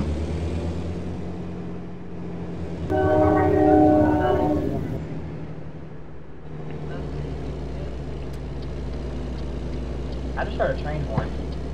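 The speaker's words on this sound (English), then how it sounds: "I just heard a train horn." A horn blares for about two seconds in the middle of a simulated American truck driving scene in American Truck Simulator, over a constant low engine drone, with a few faint clicks afterward.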